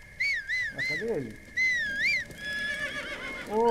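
A horse in the video game The Legend of Zelda: Breath of the Wild whinnies several times in a row, loud and close, its neighs rising and falling in pitch.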